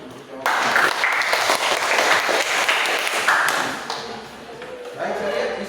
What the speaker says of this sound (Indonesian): Oke, kita aplaus dulu.